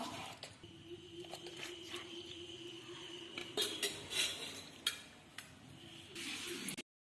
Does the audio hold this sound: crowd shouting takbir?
no